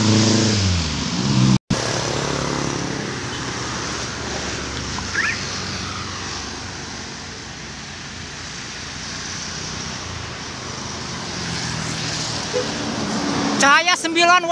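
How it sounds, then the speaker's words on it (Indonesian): Tour bus rolling along a busy road climbing the Banen Limbangan Timur grade in Indonesia, a steady loud engine and road roar throughout, with a brief dropout early and a rising rattle at the end. "Keren ya bis pariwisata."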